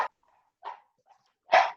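A dog barks a few times at moderate distance in a quiet room, short sharp yaps spaced irregularly with the last bark loudest.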